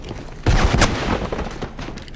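Gunfire in the video game Mirror's Edge, a loud burst of several rapid shots at the start followed by a lingering rumbling tail.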